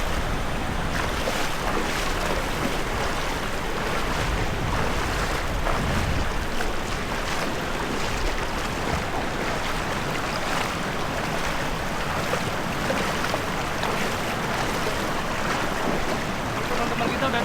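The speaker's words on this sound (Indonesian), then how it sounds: "Kita melewati arus sungai kecil ini teman-teman." A small river stream flows as people cross it on a hillside trail, giving a steady, loud rushing wash of water that never lets up, mixed with wind buffeting the microphone.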